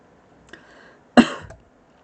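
A lecturer with lingering post-COVID symptoms gives a single sharp cough in a quiet room, preceded by a faint throat sound, close and brief with no talking around it.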